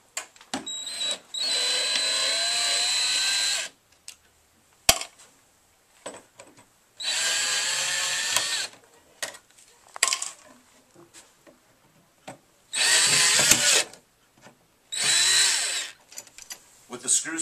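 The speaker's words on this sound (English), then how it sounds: "I recommend the cordless drill." A cordless drill backs screws out of the corner protectors on a Footlocker, with four loud, close bursts of whirring motor separated by pauses filled with clinks and handling of metal parts.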